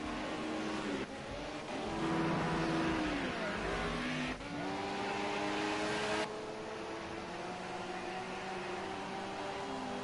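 Ford Sierra Cosworth race cars lap Hockenheim in a racing video game, engines droning loudly with rising and falling revs and gear shifts as the cars run close together.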